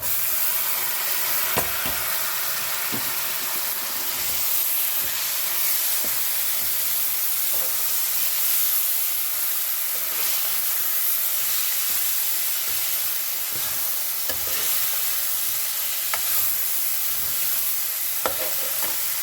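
Chopped green chili and tomato frying with roasted turmeric and chili spices for paneer bhurji, a loud, steady sizzle and hiss with occasional stirring scrapes and pops, no voices.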